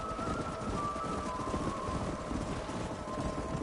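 Horse hooves clip-clopping in the video game Red Dead Redemption, a steady, fairly dense rhythm of hoofbeats running the whole time under a constant tonal hum and faint wind-like noise.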